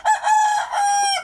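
A Sumatra-cross fighting rooster crows once, a loud, close, sustained call lasting about a second, heard alone.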